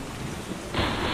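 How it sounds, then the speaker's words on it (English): A cartoon rain-and-thunder sound effect: a steady hiss of falling rain swells as a low thunder rumble rolls in, brief and loud. "the windows of heaven were opened, and the rain was upon the earth 40 days and 40 nights"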